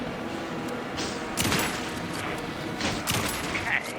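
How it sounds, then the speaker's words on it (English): Gunfire in Alan Wake II on PS5 during the Scratch boss fight, a dense crackling barrage with a few heavier bursts, continuous over a noisy game mix. "Anderson, pin him down with gunfire."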